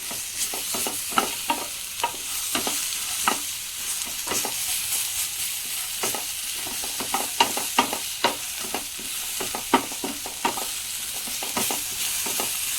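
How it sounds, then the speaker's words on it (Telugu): Ginger paste frying in a non-stick pan while a spoon stirs it, with a steady close sizzle broken by frequent sharp scraping strokes in an uneven rhythm. "ఇది కూడా మంచిగా ఫ్రై చేసుకోవాలి నాన్ స్టిక్ ప్యాన్ యూజ్ చేస్తున్నాం"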